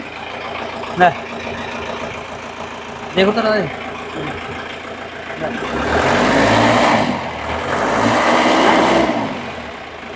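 Modified 1994 jeep engine idling up close, then revving in two strong swells that rise and fall, after a man's short spoken remarks near the start.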